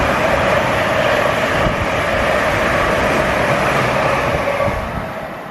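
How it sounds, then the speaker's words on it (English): A high-speed train rushes past with a steady, loud roar that holds for several seconds, then begins to fade at the end. "on the lookout for some more high-speed trains like the one that you've just seen"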